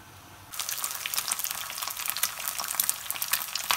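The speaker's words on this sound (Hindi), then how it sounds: "एक पराठा बेल के मैंने तवे पे डाल दिया है।" A rolled paratha frying on a hot tawa griddle, a steady dense crackling sizzle that starts abruptly after a brief quiet moment and continues close and loud without any voice.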